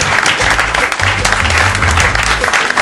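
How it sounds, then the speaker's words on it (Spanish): Enthusiastic applause from a live podcast audience, a dense, loud burst of clapping filling the short moment with no speech over it. "les pido por favor un enorme aplauso para estos muchachos"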